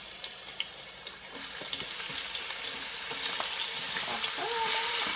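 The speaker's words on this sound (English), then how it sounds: "then we're just gonna pour in our cut onion and tomatoes." Chopped onion and tomatoes hit hot oil in a pot for a fish soup, giving a steady, continuous sizzle and hiss that builds and then holds fairly loud, with faint clinks early on and no talking.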